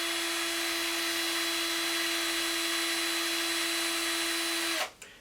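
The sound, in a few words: drill twisting fishing line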